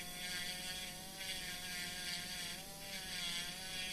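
An electric nail sander whirs steadily against a fingernail edge, a constant close high-pitched motor drone with slight rises and dips as pressure changes, no voices.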